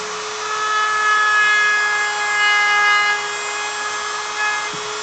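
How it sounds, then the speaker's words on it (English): A Dremel rotary tool carving, giving a steady high-pitched whine that holds for several seconds with slight swells in loudness, close and alone without speech. "I've used the Dremel like this rather extensively before."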